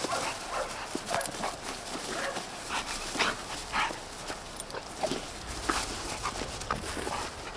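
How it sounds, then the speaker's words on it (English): A catch dog works in a yard, giving repeated excited barks, growls and scuffling against steady outdoor background noise, moderately close. "It's a quick dog."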